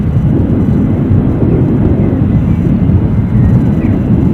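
EasyJet airliner from Venice on final approach at Edinburgh airport, a steady low broadband roar with wind noise, moderately loud and unbroken throughout.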